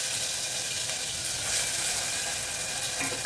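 Onions and tomatoes sautéing in a pan for tomato chutney, a continuous even sizzle at close range, steady and fairly loud throughout with no voices.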